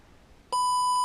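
The low-voltage buzzer on a brushed micro ESC for RC cars and planes, running on a 2S battery at about 7.2 volts, sounds a sudden loud, steady electronic beep after a moment of quiet.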